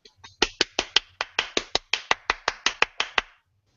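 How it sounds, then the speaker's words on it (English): A single person claps hands during an online hangout call, about sixteen sharp, close, evenly paced claps in a steady rhythm before stopping. "I'm clapping all the way from the other side of the world,"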